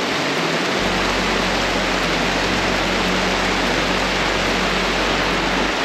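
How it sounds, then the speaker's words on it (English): Heavy rain pours down in a steady, dense, loud wash of broadband noise, with a low rumble underneath, continuing unbroken throughout with no voices. "we were expecting rain today, but this is a little bit more than what we thought we were going to get"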